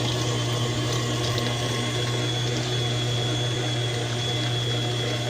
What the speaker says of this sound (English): We're also going to go ahead and incorporate 1 cup of milk to our mixture and let it mix real good.